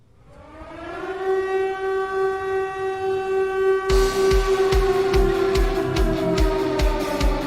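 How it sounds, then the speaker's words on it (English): A civil-defense style siren wails steadily, rising in at the start and sustained, then joined by loud rhythmic horn or drum blasts in the second half; a sound effect dropped into a gaming podcast. "Sirens, please. Hit me with the horns"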